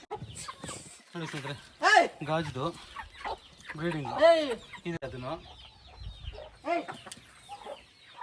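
Several Aseel fighting-breed chickens cluck and squawk nearby on a farm in uneven bursts while someone talks on and off.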